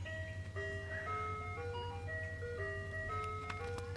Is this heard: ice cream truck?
yes